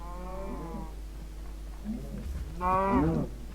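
A cow moos in a survival video game, with two drawn-out lowing calls, the second louder and rising, over a steady low hum from the game.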